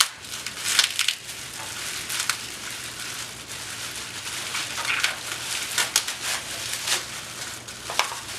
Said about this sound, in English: You can remove the packaging at this point too.